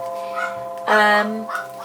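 A pet dog at home reacts to a doorbell with a brief, high whining yelp in the middle, set against a steady ringing tone and a quiet indoor room.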